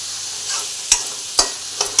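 Mutton with turmeric and salt fries in a pan with a steady sizzle. A spatula scrapes through it in several sharp, separate strokes, close and loud, with no talking.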